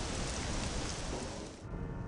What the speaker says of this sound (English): The planet's rain is acid, so it will just chip away at your health without it